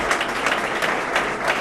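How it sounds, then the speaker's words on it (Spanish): Audience applause at an awards ceremony, a steady wash of many hands clapping close and loud throughout, with no voices over it. "un fuerte aplauso"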